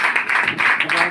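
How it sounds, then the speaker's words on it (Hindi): A church congregation at a sermon claps together for a brief burst, the dense applause steady throughout with a voice mixed underneath. "जितनों का जोर से ताली बजाएंगे परमेश्वर की महिमा के लिए"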